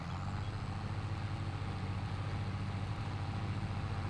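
A steady, low rumbling engine drone from a tractor in Farming Simulator 22, constant in level and pitch throughout, with no speech over it.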